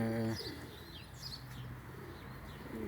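Pigeons in a loft coo softly in low, rounded phrases, with a few faint chirps and a brief flutter of wings, all fairly quiet and close with steady background noise.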